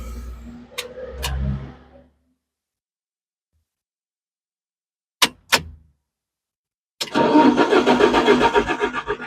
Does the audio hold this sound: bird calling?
no